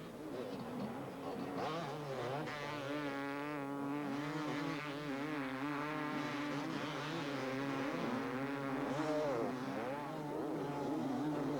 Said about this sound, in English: All these competitors are riding identical 250cc motocross motorcycles